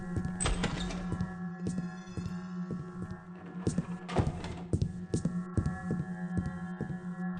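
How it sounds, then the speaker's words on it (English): Secret door opening in Thief II: The Metal Age, heard as a series of close mechanical thunks and a sliding scrape over a steady low ambient hum. "Secret door."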